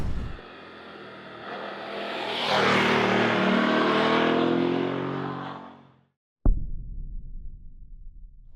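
A 2025 BMW F900 motorcycle engine revs up hard through several gears, loud and close, then cuts out briefly before a sharp restart and lower rumble.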